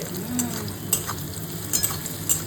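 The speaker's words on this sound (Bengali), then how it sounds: "মা চলে এসছে পটল ভাজতে" Pointed gourd sizzling and frying in a pan, with a few sharp metallic scrapes and clinks of stirring. No talking.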